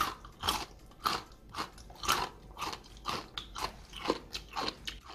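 Close, crisp crunching of pickled whole garlic cloves being chewed, repeated in a steady rhythm of bites with no speech.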